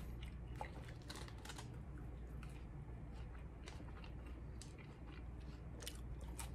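Crunchy french fries being bitten and chewed close up, a steady run of crisp crunches and chewing over a constant background hum.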